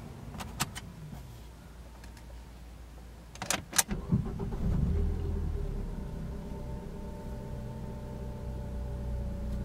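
A 2013 Ford Focus SE with about 10,000 miles is started: a few sharp clicks and clunks, then the engine cranks and catches, and it settles into a steady close idle with no talking.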